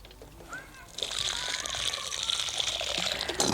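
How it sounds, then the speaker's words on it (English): Watering newly planted-out tomato and aubergine plants in a garden, water splashing and pouring onto soil and leaves, starting after a quiet second and continuing steadily, moderately close. "Now I'm just gonna water them"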